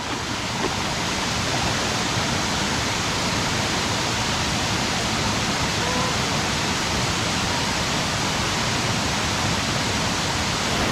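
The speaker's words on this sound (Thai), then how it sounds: "เจอน้ำตกที่สวยงามมากเลยนะครับ" A steep, tall waterfall in a forest pours with a steady, dense roar of falling water, constant and close with no voices.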